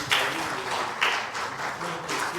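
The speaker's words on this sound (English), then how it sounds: "A big applause for" Brief, soft bursts of audience clapping for a panel at a talk on global languages and careers, coming in three short swells under a quiet room.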